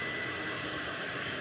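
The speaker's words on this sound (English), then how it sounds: "EasyJet departing now to Lisbon" An EasyJet airliner departs Manchester Airport, its jet engines giving a steady, broad roar with a faint whine, distant and unbroken.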